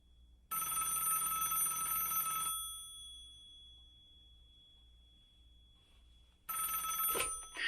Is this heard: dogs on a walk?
no